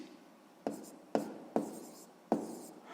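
Numbers being written out during a sixth-grade math lesson produce four distinct tapping strokes at uneven intervals, close and crisp against a quiet room.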